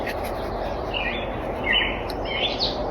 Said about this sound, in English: A bird just flew by.